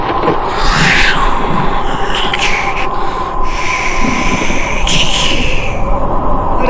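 Strong, steady stormy wind roars and rushes throughout, with gusty bursts of hiss rising and falling over a constant rumble.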